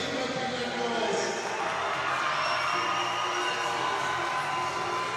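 A crowd cheers and shouts at a basketball game between Reading Rockets and Bristol Flyers, a steady, dense roar of voices filling the arena for several seconds, with talk mixed into the din.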